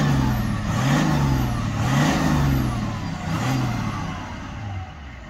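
A warmed-up VW Phaeton 5.0 litre V10 diesel with 4Motion revs steadily close by, a low throbbing engine note swelling and easing in several rises over a constant mechanical whir, with no talking.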